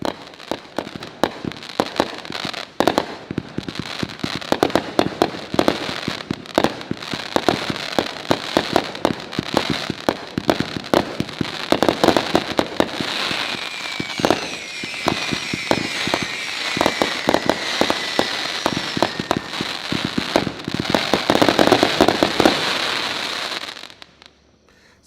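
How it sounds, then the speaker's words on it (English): A Night Blossom 176-shot XL aerial finale fireworks cake fires in a rapid, relentless string of sharp bangs and crackles for over twenty seconds, with whistling tails rising midway before the barrage stops abruptly. "This is the Night Blossom 176 shot XL aerial finale set"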